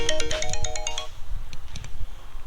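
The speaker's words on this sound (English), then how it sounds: "I'm getting a phone call" A mobile phone ringtone for an incoming call plays a quick melodic phrase for about a second, then cuts off, leaving low background rumble and faint knocks in a cabin build setting.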